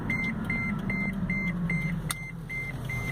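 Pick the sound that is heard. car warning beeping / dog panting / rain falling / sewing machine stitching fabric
car warning beeping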